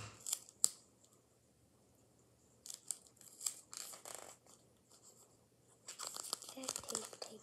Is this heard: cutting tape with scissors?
yes